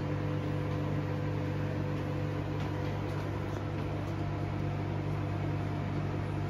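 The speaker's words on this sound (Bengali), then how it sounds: "ভাবা যায় ইডলি বানানো হচ্ছে মাইক্রোওয়েভ ওভেনে।" A microwave oven runs steadily while idli cook inside, giving a constant low hum with a broad airy whir and faint ticks, with no talking.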